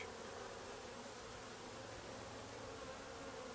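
Honey bees from a five-frame nuc being dumped into a new eight-frame hive give off a dense, continuous buzzing swarm drone, steady and unbroken, with no voices.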